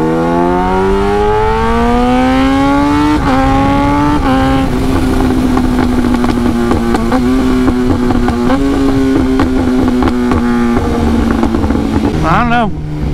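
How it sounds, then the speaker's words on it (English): A motorcycle, likely a Kawasaki H2, revs loud and close, its engine pitch climbing through gear shifts in a continuous roar before dropping near the end, with speech partly under it. "I mean this bike, it just sounds crazy"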